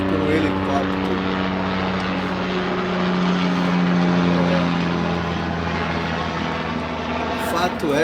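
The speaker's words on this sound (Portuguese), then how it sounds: "Estamos sendo visitados aqui subitamente por um helicóptero." A helicopter passes overhead outdoors, its steady rotor and engine drone loud and continuous throughout, with faint talk underneath.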